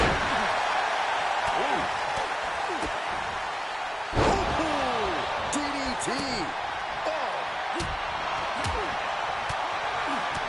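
Wrestling slams and blows in the WWE 2K25 video game land as repeated sharp thuds over a constant crowd roar, with a heavier impact near the middle and commentary running underneath.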